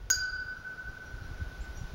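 A J79 turbine engine's seized compressor, with dirt trapped in the cases striking a blade end: one bright metallic ping followed by a long, faint, steady ringing tone over low rumble.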